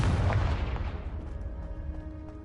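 A Confringo fire spell detonates in the Hogwarts Legacy game, a heavy boom at the start that rumbles and fades over a couple of seconds.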